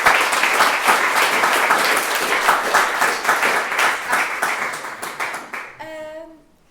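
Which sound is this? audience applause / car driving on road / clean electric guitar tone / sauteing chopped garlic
audience applause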